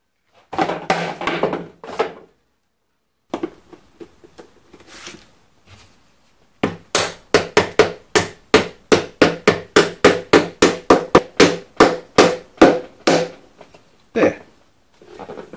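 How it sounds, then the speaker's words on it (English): Rapid series of about twenty sharp taps from a mallet driving a fitting onto the end of a pipe tube, close and steady, preceded by a few scattered knocks and handling sounds. "affix it to the end of the tube with my favourite tool,"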